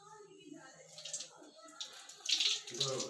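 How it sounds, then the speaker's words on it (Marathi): Water splashes and trickles from a tap in short bursts as a child washes his face, while the child and an adult talk nearby. "स्वच्छ धू तोंड"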